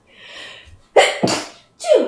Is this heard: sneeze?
yes